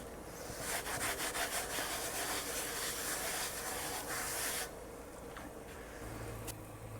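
A hot cast iron pan is scrubbed with salt, giving a loud gritty rasping in quick strokes for several seconds before it drops to a quieter scrape, with no one talking.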